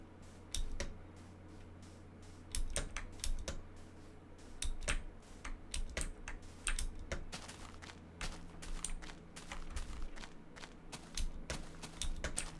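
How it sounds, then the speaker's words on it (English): Loud clicking of an excruciatingly noisy computer keyboard, rapid keystrokes in uneven bursts over a steady low hum, with no talking. "Keyboard sounds? Yes, I have a excruciatingly loud keyboard."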